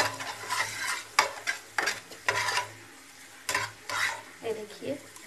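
Semolina halwa fries in hot ghee while a spoon stirs it, giving a low sizzle and repeated scraping strokes against the pan in irregular bursts, close up.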